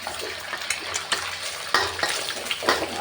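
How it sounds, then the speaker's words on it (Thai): Garlic sizzling in oil in a pan with intermittent stirring and scraping clicks, a steady frying hiss underneath. "น้ำมันแล้วก็กระเทียมเจียวลงไปก่อนนะคะ"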